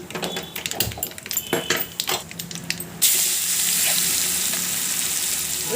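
Spicy, sour raw mango pickle with asafoetida is stirred in hot oil, with crackling clatter first, then a sudden loud, steady sizzle as the pickle hits the oil, heard close.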